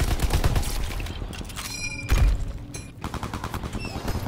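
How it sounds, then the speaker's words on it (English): Machine gun fire in Call of Duty WWII Zombies: rapid, loud automatic bursts with dense repeated shots, a short pause mid-stream, then more sustained firing up close. "I don't think this machine gun is a good idea"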